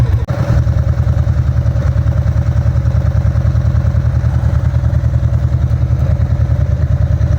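A Ducati 750SS motorcycle fitted with Keihin FCR 39 carburetors idles close and loud, a steady, even, throbbing beat throughout after a brief click at the start.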